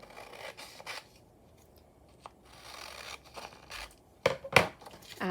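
Scissors cut through a paper journal cover in a quiet room. The close, crisp snips and rasping strokes come in short irregular bursts with pauses between them.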